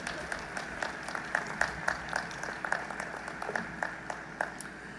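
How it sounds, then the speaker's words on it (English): Graduates and guests clapping at a Towson University spring commencement ceremony, scattered individual claps standing out over a soft hall ambience, moderately distant and uneven in rhythm. "You can clap."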